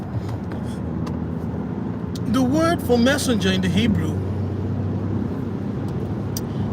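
Road noise inside a moving car, a steady low rumble and hum that sits under someone speaking close to the microphone.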